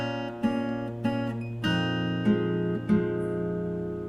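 Fingerstyle guitar picks the next phrase of a song, a few plucked notes ringing out over a sustained bass, clear and close.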